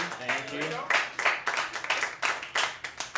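Comedy club audience clapping and applauding after a joke, a brief burst of sharp, uneven hand claps following a short spoken phrase.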